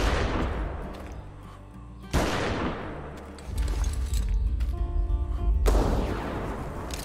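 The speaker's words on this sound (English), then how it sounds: "Get our shots off as quickly as we can and as early as possible." Loud gunshots fired rapidly at a Giganotosaurus in a dinosaur video game, three heavy booming blasts with long ringing decays over a rumbling, active game soundscape, no talking.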